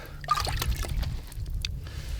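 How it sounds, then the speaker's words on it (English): Water is poured onto a sharpening stone to soak it before sharpening an arrow shaft straightener, giving a short, close trickling splash with a few drips. "First, I'll wet the stone, get this plenty saturated."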